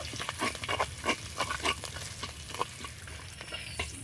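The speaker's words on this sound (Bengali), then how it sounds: "একটু নাড়াচাড়া করে মশলাটা ভেজে নেব" Cumin powder and turmeric fry in a pan as a spoon stirs them, giving soft scraping strokes and bursts of light sizzle that come in short, uneven pulses close by.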